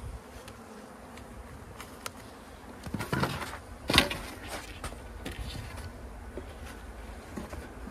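Honeybees buzzing at an open hive during an early-season hive check, a steady hum with brief louder passes and knocks from handling the hive parts.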